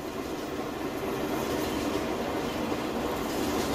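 A train rolls past in the Farming Simulator 19 game on the Red River Valley map, giving a dense, steady rumble with a faint clattering texture throughout, fairly quiet and without speech.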